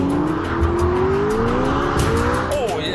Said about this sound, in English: So now you can just power your way out of a corner like that and the torque and power keeps going.